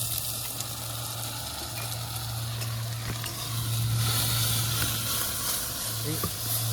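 Continuous sizzling of onions and spices frying in a hot pan, with a low steady hum underneath and occasional faint stirring sounds.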